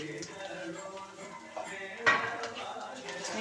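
Curry leaves and green chillies being stirred into a dry mixture in a pan, with soft scraping and clinks of a spoon against the metal and a brief sharper clatter partway through, close and quiet under a faint voice.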